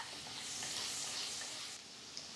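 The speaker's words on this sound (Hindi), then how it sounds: "एक वोक में तकरीबन 2 टेबलस्पून ऑयल ले लेंगे। ऑयल में 1 टेबलस्पून हम लहसुन डाल देंगे," Chopped garlic frying in about two tablespoons of oil in a wok while preparing mutton masala, giving a steady, close broadband sizzle with no one talking.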